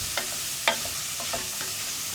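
Onions sauté with salt in a steel pressure cooker, a soft continuous sizzle broken by a few light scraping stirs, quiet and close with no talk.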